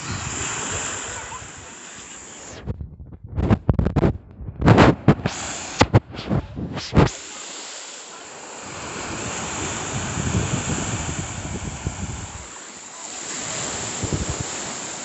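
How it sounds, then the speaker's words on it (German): Mediterranean Sea waves washing ashore, a steady roaring surf with heavy wind noise on the microphone, broken midway by a few seconds of sharp handling bumps and clatter. "Lass mir einfach mal so das Wasser auf mich zukommen."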